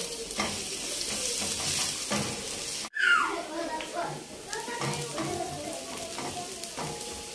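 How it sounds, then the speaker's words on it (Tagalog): Onion and garlic dropped into hot oil in a pan for lechon paksiw hiss into a loud, bright sizzle after a brief hush, then keep frying steadily while voices talk nearby. "So, ilagay na po natin yung ating sibuyas at bawang."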